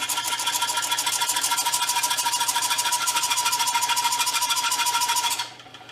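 A small motorized file runs with a fast, steady rattling buzz for about five seconds at close range, then cuts off abruptly, leaving only faint room noise.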